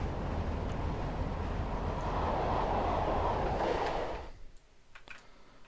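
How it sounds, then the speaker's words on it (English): BR Class 50 diesel locomotive train on the Portsmouth Direct Line, a steady loud rumbling roar for about four seconds that cuts off abruptly, leaving quiet background. "There's our train."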